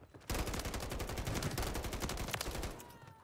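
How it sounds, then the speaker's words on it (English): Rapid bursts of gunfire from a Call of Duty Warzone match, dense overlapping shots and automatic fire sustained loudly for about three seconds with no talk. "There's shots."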